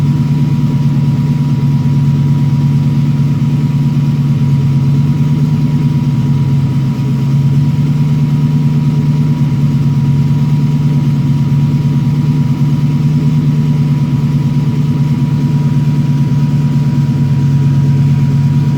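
A TVR Chimaera fitted with a stealth cam idles steadily at a slightly raised idle, a loud continuous low rumble with a faint steady whine, running alone for the whole stretch.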